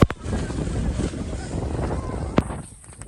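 Gusty wind sweeps across a misty, rainy hilltop at Ayyarmala in Palakkad, buffeting loudly and unevenly with a couple of sharp knocks near the end.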